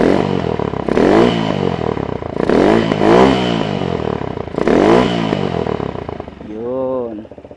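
A motorcycle with its exhaust pipe cut short and modified revs hard several times in loud, raspy bursts, each rising and falling, before settling to a rough, uneven idle up close.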